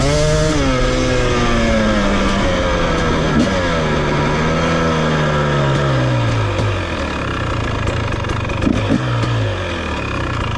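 A 2023 KTM 250 XC dirt bike engine revs loud and close, its rasping tone rising and falling as the rider works the throttle with no talk.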